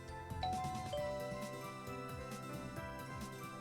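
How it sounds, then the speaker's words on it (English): A doorbell chimes in the visual novel game Never 7 - The End of Infinity, a bright ding-dong ringing clearly over a steady bed of game background music. "The doorbell rings."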